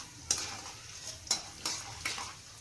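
Peanuts frying in a hot pan as a spatula stirs them: a soft continuous sizzle broken by four sharp scraping clinks at uneven intervals, close up with no voices.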